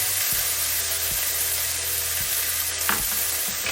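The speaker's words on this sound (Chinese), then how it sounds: "然后翻炒2下" Chopped Chinese chives are stir-fried in a hot wok with salt, sugar and a spoon of starch. A dense, loud sizzle runs throughout, with a few soft spatula taps and scrapes.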